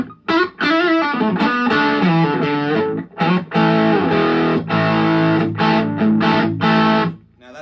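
A lead guitar played through a Rockit Super Lead 130 1x12 combo amplifier from 1980s New Zealand, on its lead channel with heavy 70s-style drive, rings out in sustained distorted notes and short bends with brief gaps, loud and close.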